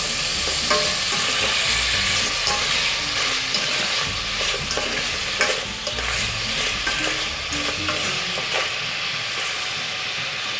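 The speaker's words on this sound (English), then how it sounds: "Now we stir it well." Khmer amaranth soup seasoned with sugar being stirred in a pan, a continuous loud sizzling bubble broken by repeated scraping strokes of the spoon, with no voices.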